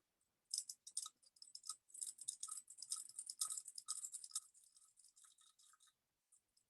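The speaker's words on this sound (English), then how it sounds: "I'm going to take my stir rod, and I'm going to put it inside of the test tube," A glass stirring rod twirled inside a corked test tube on a wooden table gives a steady run of soft, scratchy rubbing and clinking strokes, close up and quiet, with no talking.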